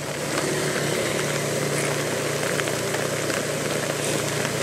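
Heavy rain pours down on a suburban street in Nha Be, on the outskirts of Saigon, making a dense, constant roar of water at close range with no talking.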